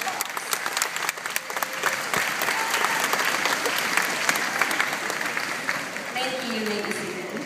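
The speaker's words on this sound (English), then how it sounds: "Let's give them a round of applause." A graduation ceremony audience breaks into sustained, dense applause at a steady loud level throughout, with faint voices mixed in under the clapping.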